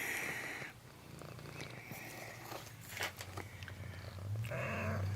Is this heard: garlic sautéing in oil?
no